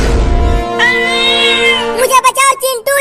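A cat's drawn-out meow rises and holds, then a few shorter, choppier cries follow, loud and close, with a low rumble at the very start.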